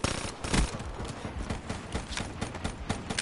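Dense, chaotic gunfire in a competitive shooter match, overlapping rapid shots and rattling bursts with crowded background game noise, moderately loud with no clear talk.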